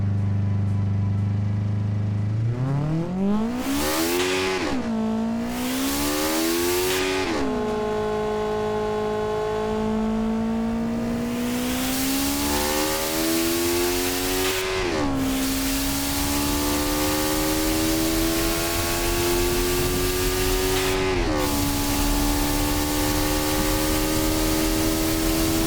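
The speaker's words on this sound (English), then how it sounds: "Let's have a full test lap of the new power record setting Kei car" Kei car engine on a test lap in the Automation game, a loud, steady whining drone that climbs sharply in pitch through the revs, dips at each gear change and climbs again, running alone without talk.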